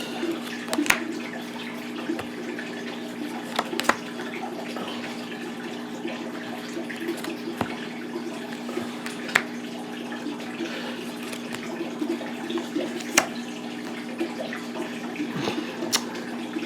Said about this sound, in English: Sorry if you hear my fish tank.